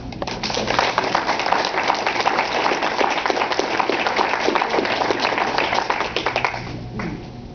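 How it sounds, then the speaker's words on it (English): An audience at a civic gathering breaks into applause, dense continuous clapping from many hands that holds steady for several seconds before thinning out at the end. "I want to ask the group if they would give you a round of applause."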